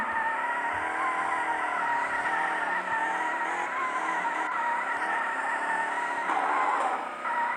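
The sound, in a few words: car drifting with handbrake in a drift racing video game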